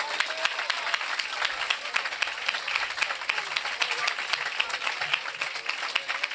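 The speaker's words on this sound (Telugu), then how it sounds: "దేవుని స్తుతిస్తూ చప్పట్లు కొట్టండి ఒకసారి" A church congregation claps in praise of God, dense, rapid applause from many hands that holds steady for several seconds, moderately loud and heard on its own without speech.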